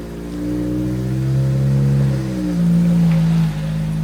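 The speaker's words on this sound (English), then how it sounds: "let's get the car warmed up and we'll give it a little test drive" A car engine warms up outdoors in freezing weather, idling steadily close by and swelling into two rising revs, the second stronger and longer before it drops back. No voices.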